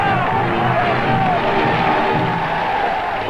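Large crowds in Algeria shout and cheer for de Gaulle, a dense, continuous roar of many voices with chanting and cries filling the whole stretch, archival in quality.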